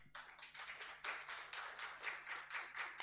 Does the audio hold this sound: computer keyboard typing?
no